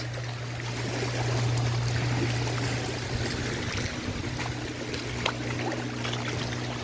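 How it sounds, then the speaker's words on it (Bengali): Water flowing at Maithon Dam, a steady broad rushing wash with a low droning hum underneath, continuous and moderately loud throughout with no talk. "উফ জলের এই আওয়াজটা মনকে পুরো ভরিয়ে দিচ্ছে এত সুন্দর জলের আওয়াজ"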